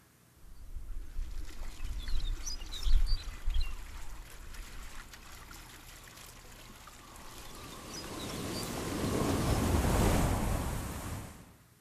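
A melt-season soundscape made by sonifying satellite sea ice data gives a wash of surf-like noise with wind and trickling water, patchy at first, then swelling into a louder, rolling roar near the end. No one speaks.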